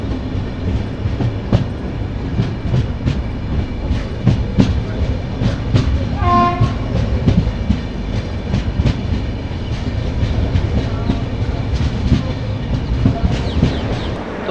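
The 12985 Double Decker Express pulls into Alwar Junction with a loud, steady rumble and rhythmic clickety-clack of wheels over rail joints, and a brief tonal whistle-like sound partway through.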